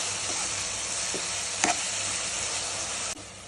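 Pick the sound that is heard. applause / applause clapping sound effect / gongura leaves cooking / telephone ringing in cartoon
gongura leaves cooking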